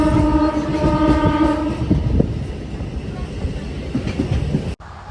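Inside a moving train on a trip to Naihati, a steady rolling rumble and rhythmic wheel clatter fill the carriage, with a long horn blast early on sounding over the noise.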